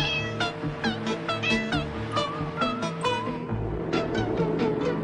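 A cat meows repeatedly in a surreal dream sequence from a 1991 film, several distinct high, wavering calls spread across the moment over a busy background of music or soundtrack noise.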